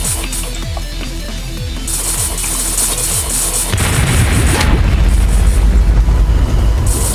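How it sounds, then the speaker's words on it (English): A Plants vs Zombies mod for Minecraft produces a deep, booming explosion partway through. A heavy rumble swells and sustains over ongoing crackling game noise and rhythmic thuds. "This one survived the explosion."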